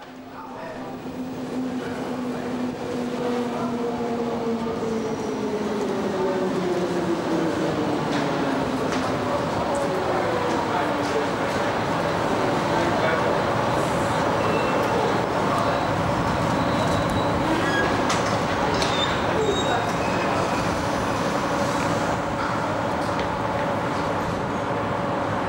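A Class 420 S-Bahn train runs through the underground Rosenheimer Platz station. Its motor whine rises and falls in gliding tones over a rumble that builds early and then holds loud and continuous.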